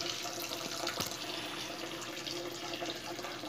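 Aquarium filter in a cichlid tank runs as a steady, close rush of splashing water, continuous and fairly loud with no voices over it.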